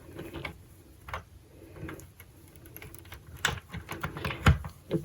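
Sentro Addi knitting machine worked by hand while knitting a summer shrug, giving soft, irregular clicks and clacks of needles and carriage, quiet and close, with a few sharper knocks near the end.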